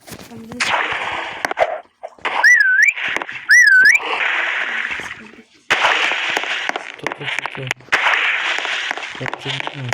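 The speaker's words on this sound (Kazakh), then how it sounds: "Мына жерде ысқыратын тұрмын ғой." Two quick warbling whistles, each rising and falling, cut through a busy mix of Roblox game noise and a voice talking.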